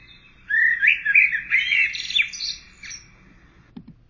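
A blackbird singing alone, a run of clear fluting and warbling phrases that rise and fall over about three seconds, followed by a brief lower call near the end.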